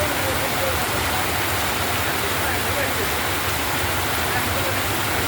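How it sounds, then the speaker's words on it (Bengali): Heavy evening rain pours down steadily outdoors beside a small river or canal, a dense continuous hiss that stays loud and even throughout with no pauses. "প্রচুর বৃষ্টি হচ্ছে মানুষজন সবাই দাঁড়িয়ে আছে অনেক কষ্ট করতেছে অনেক অনেক বৃষ্টি হচ্ছে"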